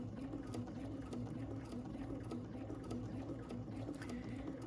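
Domestic sewing machine stitching across the bottom of a bag: a faint, continuous rapid needle whir with an even mechanical rhythm, no talk.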